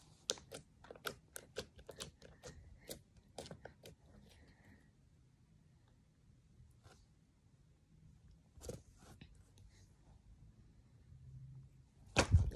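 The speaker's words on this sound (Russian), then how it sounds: "Послушайте, как этот кликает." Stretchy slime squeezed by hand, giving a rapid run of sharp, crisp clicks and pops close up at first, then sparser clicks separated by quiet gaps, ending in a louder burst.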